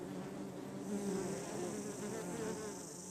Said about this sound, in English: in late summer they are busy with bees, butterflies and a variety of insects.